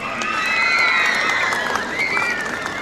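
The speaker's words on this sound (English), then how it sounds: "Can we have a round of applause for St." An audience applauds and cheers for St. John's School, Laban, at an outdoor Independence Day parade in Shillong, with steady broadband clapping and crowd noise filling the whole stretch under some faint voices.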